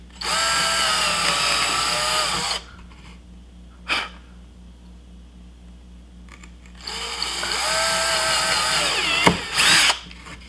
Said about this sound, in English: We're just going to go ahead and drill into the corners here.